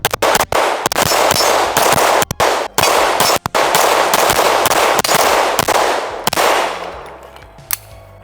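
A Girsan Witness 2311 Match X pistol fires a fast string of loud, close shots that run together almost continuously before tapering off near the end.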